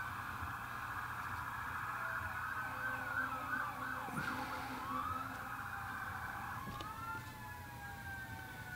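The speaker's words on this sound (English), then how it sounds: "so I hope we can enjoy that fun sound of the sirens" Emergency vehicle sirens from a town parade wail and sweep up and down steadily, fairly close, with a rumbling vehicle beneath them and no talking.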